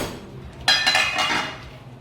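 A utensil clinks and scrapes against a metal pot while bulgur with garlic, ginger, onions and pepper is stirred, a couple of close sharp knocks followed by softer scraping.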